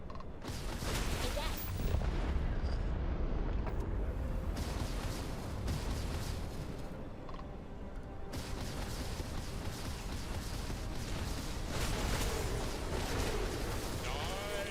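Spaceship weapons in the video game Starfield fire at an enemy ship in a string of loud, booming blasts that roll and rumble almost continuously, with faint talk now and then.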